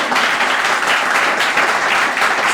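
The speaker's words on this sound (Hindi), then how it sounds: "अरे खुदावंद के लिए जोरदार ताली" Congregation applause in an Urdu-language church service in Sohar, Oman, during a sermon: a short burst of loud, dense clapping from many hands, steady and unbroken for a couple of seconds.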